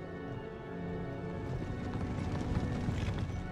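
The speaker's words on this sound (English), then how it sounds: "Horse guards are running up to my line." Horse guards cavalry galloping in the battle game Empire: Total War, a dense rolling clatter of many hooves that builds and grows louder over a busy battlefield background.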